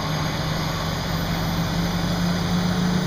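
Fire pump motor with the pump in gear hums steadily and close, a low engine drone holding near 1,000 RPM with a constant tonal whine and no clear rise in pitch.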